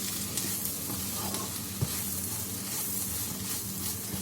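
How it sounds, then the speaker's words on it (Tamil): Soya chunks and capsicum stir-fry in a pan with an even, moderate sizzle. Occasional light clicks come from stirring as the ingredients are mixed, and no one talks. "போட்டுட்டு மிக்ஸ் பண்ணி விட்டுறலாம்."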